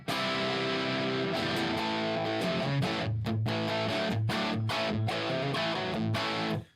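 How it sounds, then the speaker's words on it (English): An electric guitar played through an EL84 tube amp with distortion gives compressed, sustained chords and single notes, with rhythmic choppy stabs in the second half, fairly quiet overall. "There you can really hear the EL84 compression, right? When you put some distortion into it."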